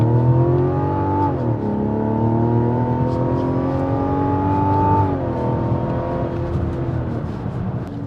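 A 2024 Mazda CX-90 three-row SUV accelerating hard from a rolling start, its engine note rising steadily through shifts with a sustained, loud drone and tyre and road hum beneath.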